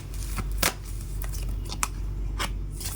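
Tarot cards are handled and drawn from a deck, giving several sharp papery snaps and flicks spaced irregularly over a low steady background.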